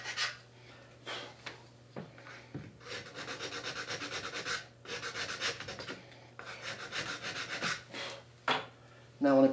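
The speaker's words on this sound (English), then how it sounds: "So I'm going to take the sanding stick and just clean this off a little bit." A sanding stick rubs back and forth over the wooden heel of a guitar neck during a neck reset, in steady close strokes with short pauses between passes.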